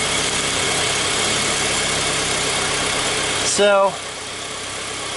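2003 Honda Civic engine running in a garage with the alternator spinning, a steady even idle hum throughout, with a brief spoken word near the end.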